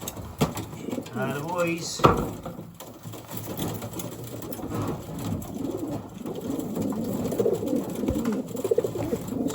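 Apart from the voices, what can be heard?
racing pigeons cooing in a basket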